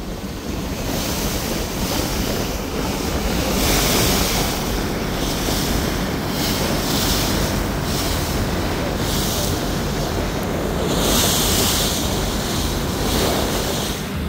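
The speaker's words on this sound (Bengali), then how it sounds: "দেখতে পাচ্ছেন কতটা রোলিং রয়েছে নদীতে এবং প্রচুর ঢেউ, বাতাসও রয়েছে প্রচুর।" Strong wind and rolling river waves buffet the open deck of a passenger launch travelling on a wide river, a steady loud roar of wind noise and surf with no talking.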